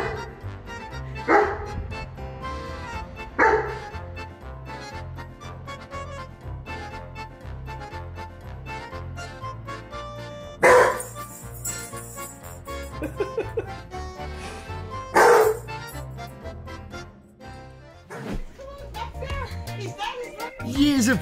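German Shepherd dogs let out several loud barks at irregular intervals over music. Children's voices and playful chatter are heard between the barks.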